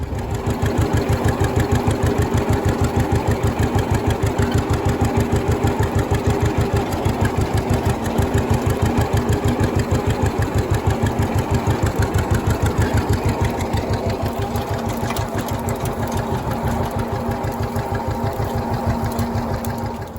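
A John Deere 50 tractor runs with a small sprayer, its two-cylinder engine beating in a rapid, even thump that holds steady and loud from start to finish.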